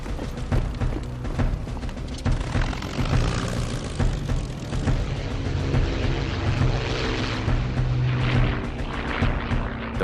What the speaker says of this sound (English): 6 Spitfires from 74 Squadron, based at Hornchurch, are scrambled.